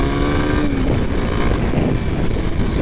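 A 2023 Kawasaki KLX 300SM motorcycle leans through a corner, its engine a loud, close, steady drone with a slight shift in pitch as it rides through the bend.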